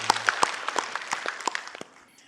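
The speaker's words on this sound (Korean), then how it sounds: "우리 하나님께 영광의 박수 올려드리겠습니다." Church congregation clapping in praise, a burst of irregular close hand claps that thins out and fades after about two seconds, with no talking over it.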